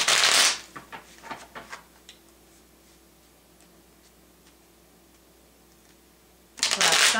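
A short burst of tarot cards being riffled and shuffled, followed by quiet, scattered ticks and taps, then another quick riffle shuffle at the end.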